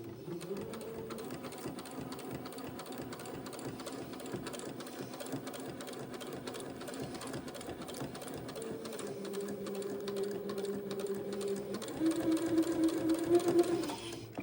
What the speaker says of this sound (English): this will take me a minute to get this sewn all the way around and trimmed and turned and pressed